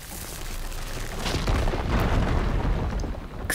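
A Horizon Forbidden West game explosion bursts into a loud, rumbling boom that swells and lingers as crackling debris, fairly close and alone without talk.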